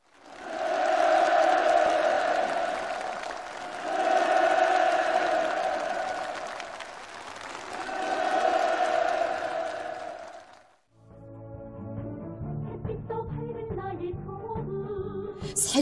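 A large audience at a North Korean meeting held for handing over new housing permits bursts into loud, surging applause and cheering that swells and fades in waves for about ten seconds, followed by music.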